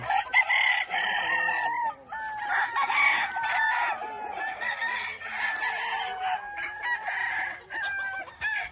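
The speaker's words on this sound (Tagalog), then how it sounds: "So yan yung mga manok ang pinapakain natin." A flock of chickens on a farm clucks and cackles continuously close by, with overlapping calls and a crowing rooster among them.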